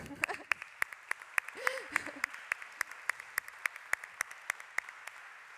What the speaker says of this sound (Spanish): vamos a darte un aplauso todos